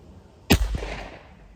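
A Thompson/Center Contender pistol with a 10-inch .38 Special barrel fires a single sharp shot outdoors during turkey target practice; the report is loud and close, followed by a brief echo that fades.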